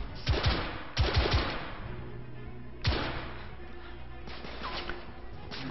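Gunfire in The Order 1886, with sharp, loud shots in bursts: a quick cluster early, another around the one-second mark, a single heavy report later, then fainter scattered shots over a low background.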